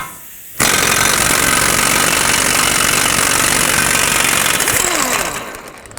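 A loud pneumatic impact wrench rattles continuously for several seconds right up close, removing the front axle nut of a 2007-2009 Saturn Aura with a 36mm socket, then winds down and stops.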